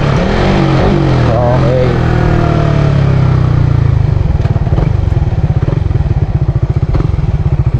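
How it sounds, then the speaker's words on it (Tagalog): Suzuki Raider FI motorcycle engine revving hard with rising and falling pitch, then settling into a loud, steady, rhythmic throb; a voice speaks briefly near the start. "So rev match tayo mga boss"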